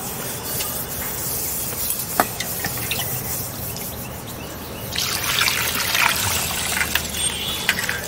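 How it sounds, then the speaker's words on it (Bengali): Rice washed by hand in a pot of water in a village kitchen, with steady wet sloshing and trickling, a single sharp drip or clink early on, and louder, brighter swishing in the second half; no one speaks. "এবার চালটাকে ধুবো, ভালো করে ধুয়ে নেবো চটকে চটকি।"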